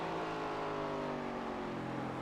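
An ARCA Series race car at Irwindale Speedway downshifting into a turn, a steady droning engine with clear harmonic tones shifting slightly in pitch, moderately loud and continuous, no voices.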